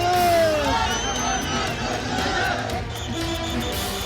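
Thousands of supporters with saffron flags chant slogans and cheer at a packed street rally in Mandi, a loud, surging roar of voices with whoops and shouted cries rising and falling over a steady crowd din.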